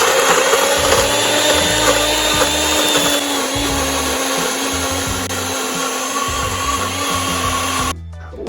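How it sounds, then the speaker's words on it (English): A NutriBullet blender blitzes chopped chilies and other curry paste ingredients with a bit of water, a loud, steady high-pitched whir that runs continuously before cutting off abruptly near the end. "Everything goes in the NutriBullet with a bit of water"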